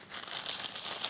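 A plastic bag from the case of a Cool Baby RS-97 retro handheld game console crinkles continuously as it is handled, a close, dense rustle with no talking.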